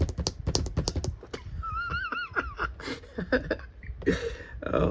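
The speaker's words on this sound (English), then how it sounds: "Typewriter." Rapid, uneven clatter of typewriter keys struck in quick bursts, close and fairly loud, with short pauses and a brief chiming tone partway through.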